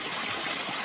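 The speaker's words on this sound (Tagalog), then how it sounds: "unya ang tubig moagi diha" Water rushes steadily through a drain channel, a brief continuous gushing flow heard close and fairly loud with no speech.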